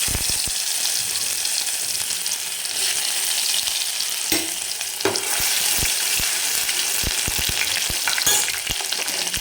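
Mustard seeds, cumin and crushed ginger-garlic fry in hot oil in a pan for a masoor dal dish, a steady close sizzle broken by sharp clicks of stirring, with no talking.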